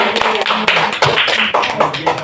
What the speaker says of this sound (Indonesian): Tepuk tangan aja dulu Bapak Ibu.